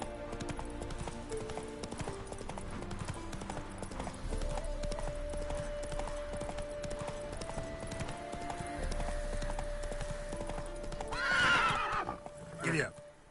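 Horse hooves clip-clopping at a steady galloping rhythm in The Witcher 3, with game music underneath and a whinnying neigh near the end.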